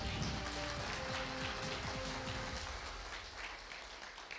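An audience applauds its mentors at a network marketing event, a steady, faint wash of clapping with soft music underneath and no talk.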